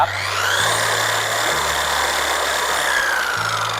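A Makita 9237C sander polisher runs steadily at speed setting 4, its motor giving a loud, even whine with a layered mechanical hum and no voices over it.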